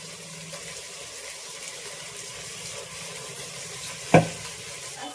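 Chicken curry with pulao spices, coriander, mint, turmeric and chili powder frying in a pan, a steady, even sizzle nearby, broken once by a single sharp clunk near the end.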